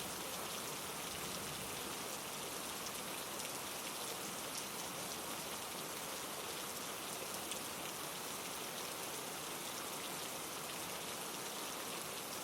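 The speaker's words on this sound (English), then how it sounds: "The rain has continued for so long that it has become part of the quietness itself" Gentle night rain falling steadily on surfaces, a constant even hiss of many drops with no gaps or other sounds, soft and continuous throughout.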